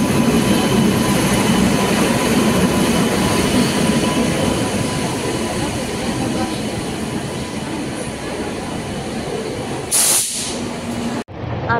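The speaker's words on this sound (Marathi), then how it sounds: "फायनली गाडी आलेली आहे आपली." A Jan Shatabdi train on Indian Railways rumbles loudly alongside the platform at Panvel station, with continuous wheel noise and a brief hiss of brakes near the end.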